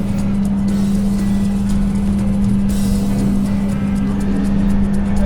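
A steady low rumble and drone of an LRT light rail train rolling slowly around a curve near Bekasi, constant and close, with no talk.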